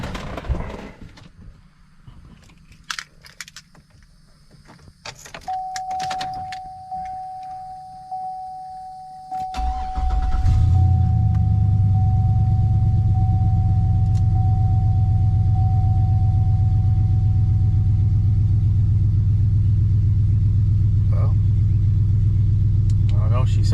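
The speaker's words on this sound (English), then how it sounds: "then we'll do a cold start, see what she sounds like" Cold start of a Cadillac Escalade EXT with a 6.0 LS V8 and AWD: quiet tinkering and clicks, then the engine cranks, catches and settles into a loud, steady, close-up idle rumble.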